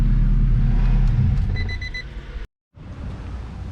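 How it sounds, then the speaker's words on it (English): A car engine rumbles and revs nearby, loud at first then easing off, with a brief dropout before the idle returns. "We got Connor over there revving his piece of shit."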